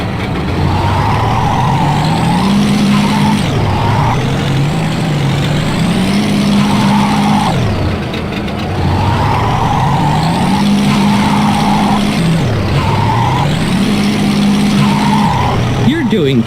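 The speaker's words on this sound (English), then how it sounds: "Go ahead and give it some gas and then hold the handbrake." SpongeBob's boatmobile in the Wii game Boating Bash revs steadily, its engine pitch rising and falling in repeated cycles as it slides under the handbrake, loud and continuous, with a voice talking over it.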